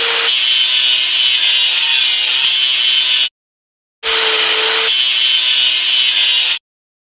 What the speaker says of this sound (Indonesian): Ayo singkirkan karat mesinnya.